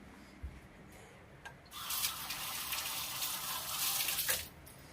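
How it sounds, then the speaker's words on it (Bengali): Hands washed under a running tap: a few faint knocks, then water gushes in a loud, steady splashing stream for about three seconds before cutting off, close and alone. "হাতটা ধুয়ে নি।"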